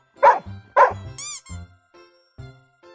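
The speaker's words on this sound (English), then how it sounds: "D-O-G, dog." A dog barks twice in quick, sharp bursts close up, followed by a brief high whine and a few fainter, softer sounds; it comes from a children's animal-learning lesson.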